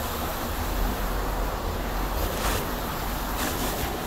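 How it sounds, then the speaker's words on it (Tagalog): Water from a pressure hose sprays steadily onto a motorcycle at a car wash in Los Angeles. It makes a loud, continuous hissing rush with a few brief surges. "Iwisikan muna natin ang tubig para matanggal na konti yung kanyang dipag."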